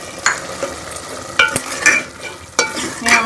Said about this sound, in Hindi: इसके अंदर मैं ये दही जो है इसको डाल के अच्छी तरह से भून लूँगी